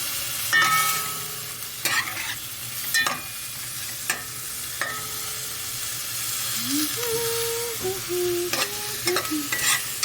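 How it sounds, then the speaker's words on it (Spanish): Octopus cooking in a pan for a seafood casserole, stirred with a utensil: repeated scraping strokes and clinks over a steady sizzle, close and clear. "Ponemos a cocinar bien unos 3 minuticos ahí, revolviendo con calma nuestro pulpo"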